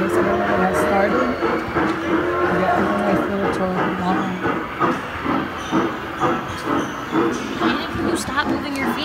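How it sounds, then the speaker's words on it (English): Ride-on train moving, a steady hissing, chugging rumble with rhythmic pulses close by, while people talk over it. "I'll record when the train moves"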